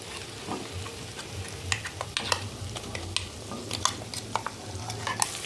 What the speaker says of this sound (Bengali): রসুনের সাথে লঙ্কাটাকে একটু ভেজে নিচ্ছি